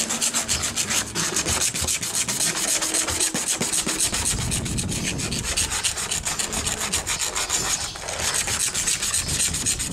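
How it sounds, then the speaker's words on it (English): Continuous rapid rubbing and rasping strokes of a clay bar against smooth car paint, removing polyurethane spray foam overspray, close and steady throughout, with no voices. "I'm virtually gonna clay through this, polish it"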